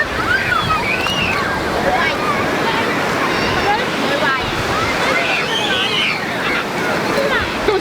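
Sea waves wash steadily onto the beach at Skegness on a hot summer day, a continuous broad surf hiss with some wind buffeting the microphone, while a voice and other people sound intermittently over it.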